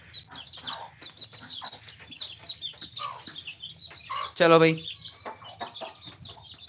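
Hens cluck softly with thin chick peeps throughout, a loud squawk bursting out midway, and someone speaks briefly over them as a hen and her chicks are moved inside.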